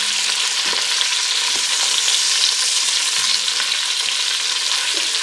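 Meat browning in a pan over medium-high heat for a Cajun rice and gravy, a steady loud sizzle with a few soft utensil knocks, continuous throughout with no voices.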